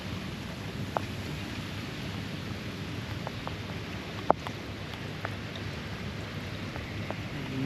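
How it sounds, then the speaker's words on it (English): Steady rain patters on a roof with a newly installed skylight, punctuated by scattered sharper drips and taps, with no talking. "first real rain."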